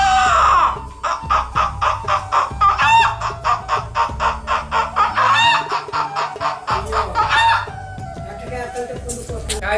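A man imitates a rooster with his voice, producing a loud, close, rhythmic series of clucking and crowing calls that run almost without pause, with no other voices.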